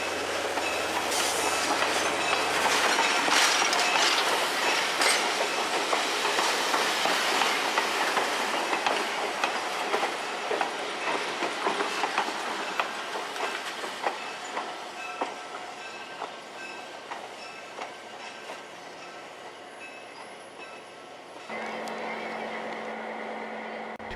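A former Union Pacific GP9 diesel locomotive rolls along the rails, giving a long, steady rumble with faint clickety-clack of wheels over joints. It is moderately loud and fairly close, with no voices.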